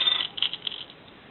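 Bronze charms jingle inside an envelope with a brief run of small, close metallic clinks that fade within about a second.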